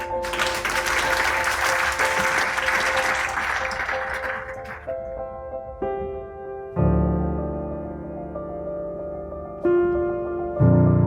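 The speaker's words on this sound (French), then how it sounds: "On peut applaudir Hélène?" An audience applauds loudly for several seconds, dense steady clapping that fades out and gives way to sustained musical tones.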